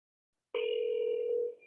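A telephone call tone sounds once, a steady sustained beep lasting about a second before cutting off, alone at moderate loudness.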